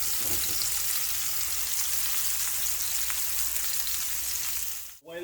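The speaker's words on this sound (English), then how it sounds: "While your fish is pan searing, just drop a couple pieces of butter inside." Basa fish pan-searing in a hot pan, heard as a dense, steady crackling sizzle like rain on a surface, close and loud, briefly dipping near the end.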